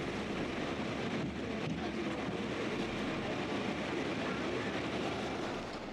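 A Howrah–Barddhaman local train runs along the Chord Line, giving a steady, dense rumble and roar heard from on board that holds level with no break for the whole stretch.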